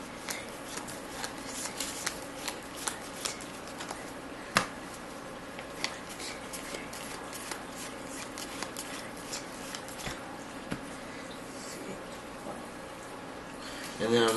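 Trading cards from a drafted game deck being shuffled by hand, repeated crisp riffling bursts and sharp snaps at irregular intervals, close up, with a few soft voices in the background.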